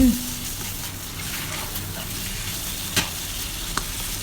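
Chicken giblets with holy basil leaves stir-fried in a pan, a steady sizzle with scraping stirs and a couple of sharp clinks near the end; faint talk may sit underneath.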